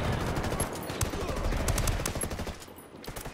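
Rapid bursts of automatic gunfire and scattered single shots crackle loudly and continuously from a military shooter video game, dense and close, with no voices over the shooting.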